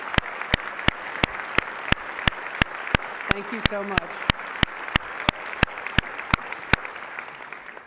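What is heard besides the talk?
audience applause for Jacob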